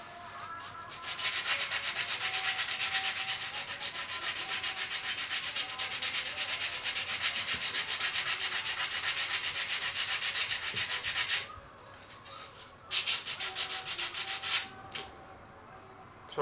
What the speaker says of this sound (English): I hope the sound of sanding won't be too loud.